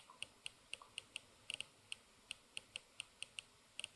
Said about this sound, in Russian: Каждый раз, когда мы доводим крутилку до крайнего значения, у нас появляется характерный звук.